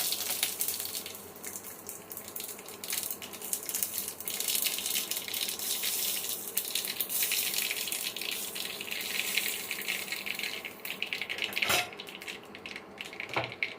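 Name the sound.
radhuni, mustard seeds and bay leaf sizzling in hot oil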